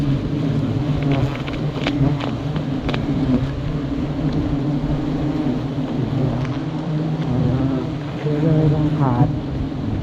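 Giant honey bees swarm and buzz around their nest on a windy day, a steady dense drone close by with wind noise underneath and a voice talking over it.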